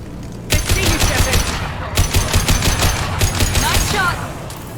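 Sustained automatic gunfire from a Mass Effect 2 firefight rattles in loud, rapid bursts, briefly pausing before resuming, with a voice speaking over the shooting.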